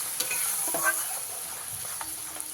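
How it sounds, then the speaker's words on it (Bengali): Tomato paste with spices frying in a pan for a bottle gourd kofta curry, a steady close sizzle with a few brief stirring scrapes, no talk. "এর মধ্যে টমেটো সেই পেস্টটা দিয়ে দিতে হবে দিয়ে খুব ভালো করে ভেজে নিতে হবে"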